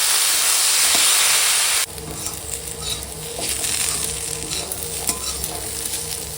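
Potatoes frying loudly in oil with a dry red chilli tempering, a strong hissing sizzle that drops suddenly after the first two seconds and then carries on with stirring scrapes and spitting crackles.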